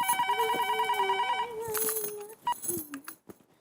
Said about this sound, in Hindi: दया भाभी को फोन करके बता देती हूँ।